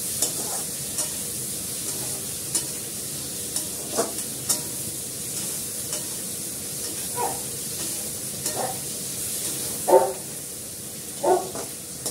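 Food sautés in a pan with a constant low sizzle, punctuated by irregular scraping strokes and knocks of a spatula, a couple of sharper clacks near the end.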